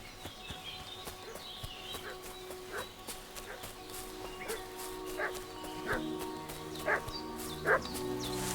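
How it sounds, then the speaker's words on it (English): A dog barking repeatedly in the video game Kingdom Come: Deliverance 2, a string of sharp, fairly distant barks spaced a second or so apart over a faint outdoor ambience, growing a little louder toward the end. "What's that dog making such a fuss about?"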